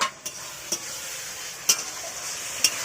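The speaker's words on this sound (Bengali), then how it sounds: "এবার এটা ভালো করে কষতে থাকুক মশলাটা কষে গেছে" Spice paste with ground coriander and cumin sautéing and being stirred in a pan, a steady soft sizzle broken by a few sharp scraping clicks of the spoon, close and alone.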